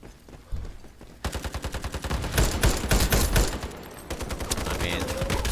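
Rapid automatic gunfire from an M39 EMR rifle in the shooter game Ironsight, a fast run of loud, sharp shots with dense overlapping bursts continuing to the end.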